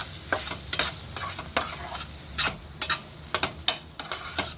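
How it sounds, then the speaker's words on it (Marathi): Spices and Schezwan chutney are stirred in a pan with a little green chilli sauce, giving a run of sharp scraping and clinking spoon strokes in an uneven rhythm over a soft sizzle, close and fairly loud. "आता हे सगळे मसाले आणि शेजवान चटणी वगैरे व्यवस्थित एकजीव करून घ्यायचं आहे"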